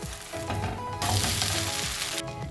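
Oats dosa frying in ghee on a hot pan, a steady crackling sizzle that swells louder partway through and cuts back near the end, with no one speaking.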